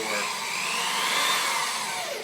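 A power drill drives a wood or metal screw into a Ford Mustang SVT Cobra car door, a steady loud whirring whine that runs continuously for a couple of seconds.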